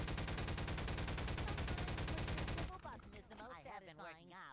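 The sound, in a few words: gunfire hitting a nextbot in the video game Garry's Mod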